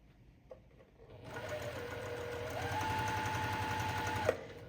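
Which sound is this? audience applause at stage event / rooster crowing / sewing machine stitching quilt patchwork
sewing machine stitching quilt patchwork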